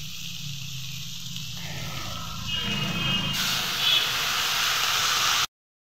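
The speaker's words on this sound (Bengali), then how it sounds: "কষানো হয়ে গেছে, এবার জল ঢেলে দেব।" Water is poured into a hot pan of cooked-down bata fish curry. A rising, steady sizzling hiss builds over the second half and then cuts off abruptly.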